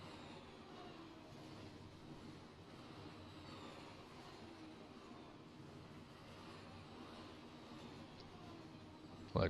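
A Union Pacific freight train running in Run8 Train Simulator, heard as a steady, low rumble of rolling rail cars with faint wheel clatter, quiet and continuous, ending in a brief louder knock.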